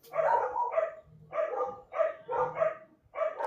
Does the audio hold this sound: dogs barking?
yes